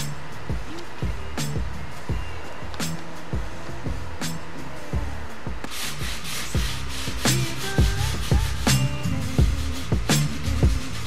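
Repeated scraping strokes of sandpaper on Bondo body filler on a Subaru WRX bugeye wagon's widebody fenders, in an uneven rhythm, close and moderately loud, with a few sharp knocks between strokes.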